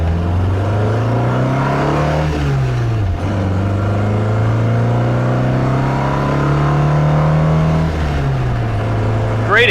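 A 1962 Triumph TR4 accelerates hard from close by, its engine note climbing steadily, dropping briefly at a gear change near three seconds, then rising again through the next gear before easing off near the end.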